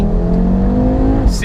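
Tuned 500 bhp Audi RS3 8P pulling hard in second gear, a loud in-car engine drone rising steadily in pitch with a brief whoosh near the end, a voice talking over it.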